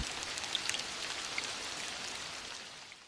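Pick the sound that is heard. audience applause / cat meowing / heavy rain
heavy rain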